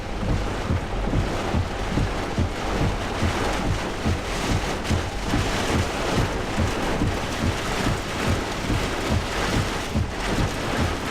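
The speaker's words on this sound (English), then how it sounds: "Last gust literally moved my truck." Strong straight-line wind gusts buffet a parked truck, a continuous loud roaring rush with rhythmic pulsing against the microphone and no talking.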